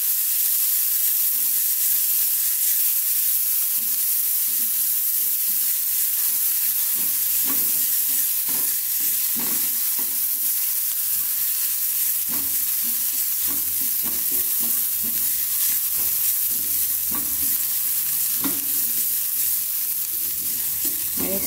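Chopped onion stir-fried in a pan until wilted and fragrant, with a constant loud hissing sizzle broken by repeated scraping strokes of a spatula against the pan, close up and without speech.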